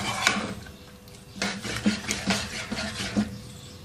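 Beef karahi being stirred together with finely chopped green chillies, julienned ginger and garam masala powder, a spoon scraping and knocking against the pan in a loose, uneven rhythm, close and clear with no talking.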